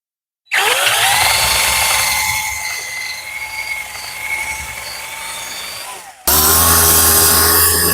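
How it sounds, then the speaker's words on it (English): A cordless drill spins up to clean rust off an RV rim, a loud steady whine with rough scraping grind that wavers in pitch, then cuts to a different, higher-pitched drill run at the end. "the cordless drill, and try to clean up a bit of this rusty stuff"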